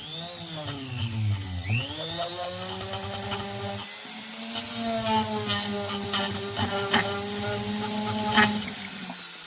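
A Foredom rotary tool whines steadily at high speed while polishing a part of a Poulan 5200 chainsaw, its pitch dipping once under load and then holding steady, close and alone.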